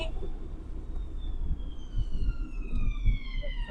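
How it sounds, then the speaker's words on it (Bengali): A police car siren wails with a slowly falling pitch as it passes, heard over steady traffic rumble and some nearby talk. "পুলিশের গাড়ি যায়"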